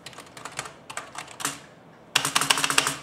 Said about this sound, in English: the mechanical keys, I do like that